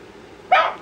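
A single short dog bark, a sharp yelp-like burst that rises suddenly from near silence and tails off within a quarter second, heard alone during a children's picture-book reading.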